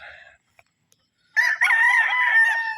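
Roosters at a gamefowl farm crow nearby, one short call followed by a long, loud cock-a-doodle-doo after a brief silence.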